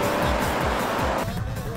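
Race cars, including an Evo 7, brake and accelerate on a wet track, a loud close engine roar with rhythmic pulsing and hiss that eases slightly toward the end.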